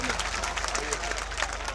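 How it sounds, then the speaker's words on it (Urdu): Audience at a mushaira poetry gathering applauds to welcome a poet, a brief burst of dense clapping from the crowd. "میں چاہتا ہوں کہ یہ شہر ان کا تالیوں میں استقبال کرے"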